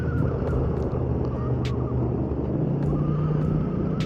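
Kymco AK550 maxi-scooter on the road, its steady engine drone blended with a constant wind rumble from riding, loud and unbroken throughout, with no talking.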